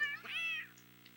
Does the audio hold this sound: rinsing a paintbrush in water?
no